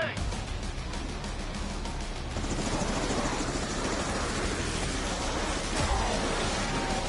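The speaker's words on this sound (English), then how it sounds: "Go get the chopper." A helicopter in the video game Call of Duty Black Ops 6 gives a continuous, loud rotor roar that holds through the whole stretch and grows slightly heavier partway through.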